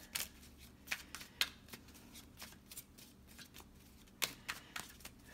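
A deck of cards is shuffled up close in a quiet room: a run of crisp, papery riffling bursts and soft taps, coming in uneven clusters.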